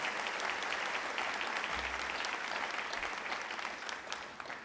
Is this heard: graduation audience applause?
yes